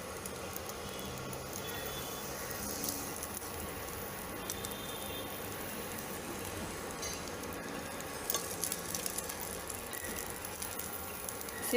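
Stuffed rice coated in tempering frying in a pan, a soft continuous sizzle with light scraping and rattling as pieces are flipped, fairly quiet and without talk.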